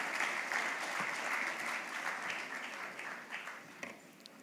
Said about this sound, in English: Request a great round of applause